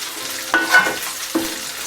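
Spice powders are stirred into a fish curry pan with cooked onions and tomatoes, a soft frying hiss broken by two brief scraping stirs.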